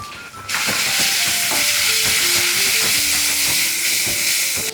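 Masoor biryani masala sautés in a hot pan, a sudden loud, dense sizzling hiss that starts after a brief quiet moment and holds steady up close until the end.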